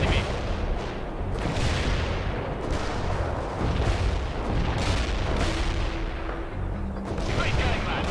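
Gunfire and booming artillery from the real-time strategy game World in Conflict pound continuously, heavy thuds and rattling shots overlapping in a loud, dense barrage, with radio-style voices talking over the battle.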